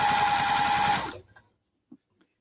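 A Juki sewing machine runs steadily while stitching a pillowcase, a dense mechanical whir with a fine high tone that stops after about a second, followed by a couple of faint clicks.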